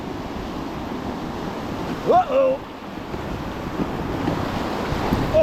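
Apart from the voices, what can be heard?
whitewater river rapids while rafting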